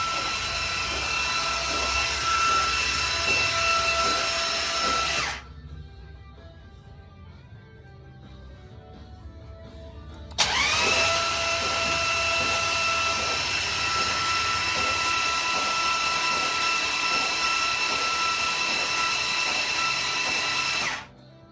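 A 500ci Mopar engine turned over by its starter: a loud, steady mechanical whine runs for about five seconds, stops for a quiet pause, then starts again for roughly eleven seconds without firing.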